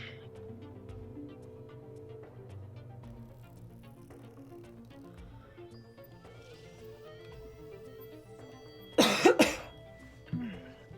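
A couple of sharp, loud coughs near the end, following a stretch of quiet background murmur with no clear talk.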